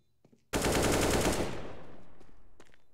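Counter-Strike gunfire on the Overpass map during a pro match: a sudden loud burst of rapid automatic fire that rings out and decays over about two seconds, with faint clicks before it.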